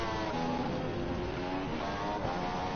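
An F3 race car engine in a racing video game screams at high revs on a hot lap at Austria, a steady sustained whine with shifting pitch.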